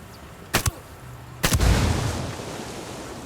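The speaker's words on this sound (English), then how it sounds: "Frag out." A frag grenade explodes in Ghost Recon Wildlands: two quick sharp cracks come first, then a louder blast with a rumbling tail that slowly fades.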